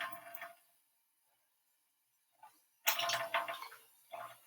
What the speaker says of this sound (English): give it a real good rinse off, and just for me, I'm going to just set it back in there and just rinse off my hands here real quick